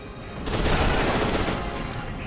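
Gunfire in the first-person shooter Fear 2 Project Origins, a dense, loud burst of rapid automatic shots that starts abruptly and rattles on continuously for about two seconds.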